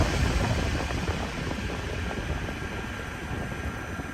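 A fan runs continuously, a steady, loud broadband whoosh of moving air with no pauses or voices.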